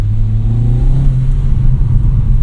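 A 2020 Cupra 290 DSG engine revs up under acceleration on a road, a loud steady rumble with rising engine tone, heard from inside the car with no talking.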